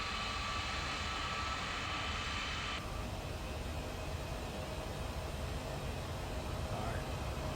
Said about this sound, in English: we're gonna go ahead and take off